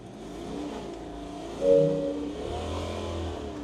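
An INEOS Grenadier off-roader engine is pushed to full throttle, a mid-pitched revving roar that swells briefly, then holds steady under a continuous low rumble, heard close with no talk.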